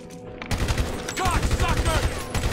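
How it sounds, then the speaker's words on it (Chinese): Rapid machine-gun strafing in a GTA 5 zombie mod, a dense, fast stream of sharp shots with a few ricochet-like whines, loud and continuous after a brief lead-in. "扫射，扫射！"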